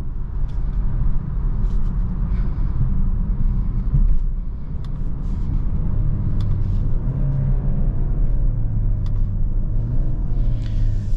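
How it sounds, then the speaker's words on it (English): A 2023 Genesis GV70 with the sport package rolls along as its transmission downshifts all the way to first gear; a steady low cabin rumble carries a rising and falling engine note, with faint clicks and road noise throughout. "Transmission downshifts all the way to the first gear."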